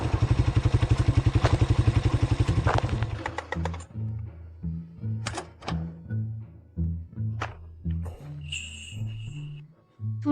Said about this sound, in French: C'est une moto. Cette chose coûte une fortune.